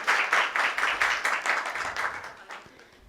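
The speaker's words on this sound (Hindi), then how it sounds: "यहाँ पर जितने लोग बैठे हैं सभी लोग एक बार जोरदार तालियां बजा दें सभी विजेताओं के लिए" An audience at a Jain religious gathering applauds the prize winners. The clapping is loud and close, with rhythmic surges that gradually fade toward the end.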